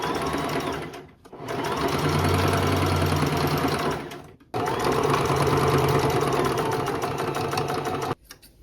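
A sewing machine hems and attaches pieces of a skirt, running in two long steady whirring stretches with a brief stop between them, close and alone.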